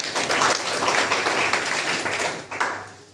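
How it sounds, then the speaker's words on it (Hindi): An audience at a motivational training session gives a sustained burst of applause, a dense wash of many hands clapping together that stays loud throughout, then thins briefly near the end before a final swell. "तो अपने लिए इससे भी जोरदार तालियां"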